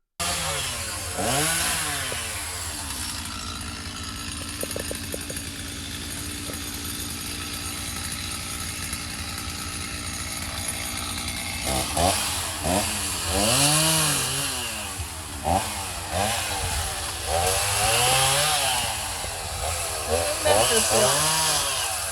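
A chainsaw revs and bogs repeatedly as it cuts through trees, loud and close, with engine pitch rising and falling through each cut.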